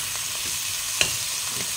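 Shrimp with garlic fry in butter in a pan, giving a steady, close hiss of sizzling with a soft clink of a utensil partway through.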